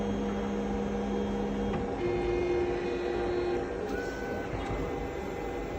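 A TBK 958Z UV laser machine autofocuses, giving off steady electronic whines that step up in pitch over a constant mechanical hum, with a few faint clicks as it settles.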